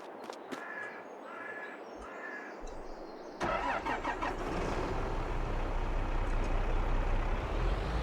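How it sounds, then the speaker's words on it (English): A tractor engine in Farming Simulator 22 cranks and catches partway through, then runs with a loud, steady rumble. Before that, a few cawing bird calls sound over a quiet background. "we'll go back and jump into that tractor and hook up to that weight before I forget."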